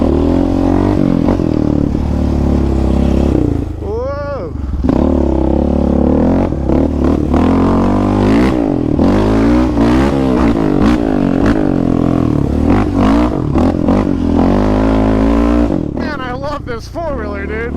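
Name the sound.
Raptor 700 ATV engine while riding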